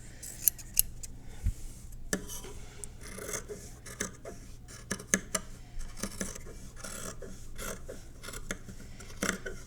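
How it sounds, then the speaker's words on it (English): Scissors trim the edges of a fabric square: a series of crisp snipping cuts, some quick and clustered, with faint rasping of fabric between them, close and fairly quiet. "grab some scissors. And we are just gonna trim off all of these edges"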